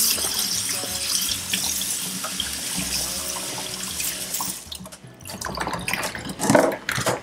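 Running tap water splashes over the plastic lid of a battery-powered goat milker being washed at a sink, a steady close hiss of water that dips briefly and then resumes with some clatter.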